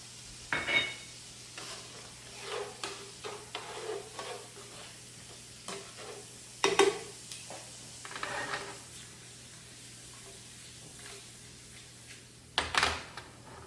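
Mixed seafood stir-frying in a pan with salt and black pepper, bursts of sizzle and clattering stirring scrapes coming in irregular clusters, close and fairly loud, with quieter gaps between strokes.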